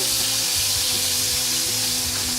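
Steak strips for fajitas sizzle loudly in a hot pan, a dense, steady frying hiss close up and unbroken throughout, with no voices.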